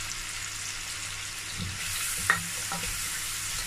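Efo riro, a Nigerian vegetable stew, cooking in a pot, a steady hissing simmer with a couple of brief stirring knocks near the end, close and moderate, without speech.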